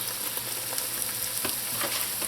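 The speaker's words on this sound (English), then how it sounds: "it's going to cook and caramelize as the Carallie is frying up in that hot oil" Continuous crackling sizzle of bitter melon frying in hot oil, loud and close, with occasional sharper pops.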